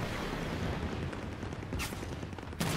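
Sustained weapon fire in Halo 5 multiplayer, a loud continuous barrage of blasts and rumbling with a couple of sharper bursts, no talking.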